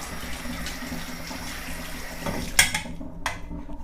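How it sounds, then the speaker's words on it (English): Running tap water splashes steadily over the bottom gasket of a Bialetti Moka Express 6-cup coffee maker being rinsed at a sink, a soft continuous hiss with a couple of sharper clinks near the end as the flow stops. "And then the often neglected bottom gasket. Give that a little rinse too."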